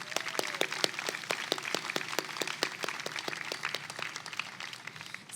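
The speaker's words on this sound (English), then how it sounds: "Let's give them a round of applause." Audience applause at a university convocation ceremony after a jazz combo of saxophone, piano, bass and drums: steady, fairly sparse clapping of a moderate crowd that continues evenly throughout, with no talking.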